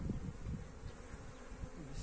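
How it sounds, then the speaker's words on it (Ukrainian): Honeybees fly into hives at an apiary in spring as hazel blooms, their buzzing a soft, continuous low hum that holds steady throughout with no talking. "Бачу, в кожний вулик залітає бджола"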